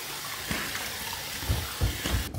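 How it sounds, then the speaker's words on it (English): Water splashed onto a face from a bowl before a Duke Cannon shave, a few soft wet splashes in quick succession near the microphone, with no talking. "get some water on my face, and we're going to build a lather"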